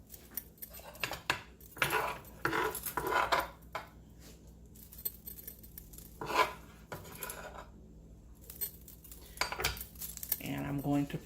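A metal utensil clinks and scrapes against a bowl or dish while stuffed-shell filling is mixed with green onions, coming in short irregular bursts with quiet gaps, close by.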